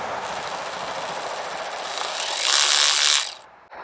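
A Ryobi 4V cordless 1/4-inch ratchet wrench runs steadily and loudly at close range, its motor whirring with a fine rapid clicking, rising in pitch and intensity near the end before it abruptly stops.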